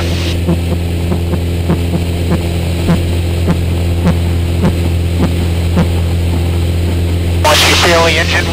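Light aircraft engine cranking during an in-flight restart on a multi-engine training flight: a steady low drone with evenly spaced starter clicks or pulses, then a louder rush near the end as the engine catches.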